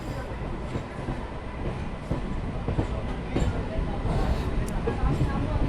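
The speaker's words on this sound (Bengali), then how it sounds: "অবশেষে নতুন ট্রেন মশাগ্রাম জংশনের এই 2 নম্বর প্ল্যাটফর্মে" A Purulia–Howrah MEMU train rolls into a platform at Masagram junction, a steady, broadband rumble of wheels and carriages that grows slightly louder toward the end, with faint clicks and squeaks throughout.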